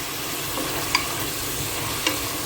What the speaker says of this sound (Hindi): चलो प्याज को अच्छे से अपन लाल भून लेना है।